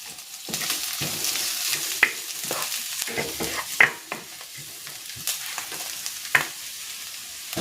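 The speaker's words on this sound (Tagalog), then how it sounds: "Magigisa na ako ng bawang. At ng sibuyas." Garlic and onion sautéing in a pan: a steady close sizzle of frying with intermittent scraping stirs and a few sharper clinks of utensil against the pan, no voices.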